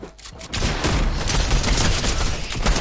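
Sustained gunfire during a Fortnite video game match, a dense continuous fusillade of close, loud shots running almost the whole clip after a brief quieter start.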